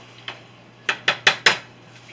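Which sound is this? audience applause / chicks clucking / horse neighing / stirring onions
stirring onions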